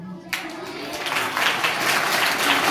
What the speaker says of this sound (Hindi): तो बच्चों की ताली बजना चाहिए कि नहीं चाहिए?